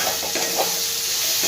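Coconut, cashews and raisins being stir-fried with cooked chana dal in a pan: a steady close sizzle with a few soft stirring scrapes.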